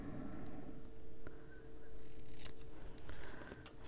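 Scissors snipping a strip of paper to make a small watercolor paint palette, a few quick, close cuts against a quiet room background.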